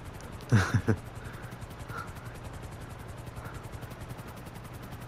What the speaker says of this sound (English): There's a chopper on us.